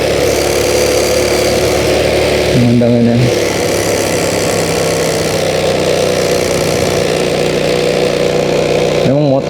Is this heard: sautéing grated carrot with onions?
no